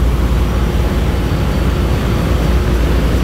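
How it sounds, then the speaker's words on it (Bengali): Passenger launch racing another vessel on the Barisal to Dhaka river route, its propeller thrust and engines producing a loud, steady broadband rumble and wash with no voices. "এই দেখেন প্রোপেলার থ্রাস্ট"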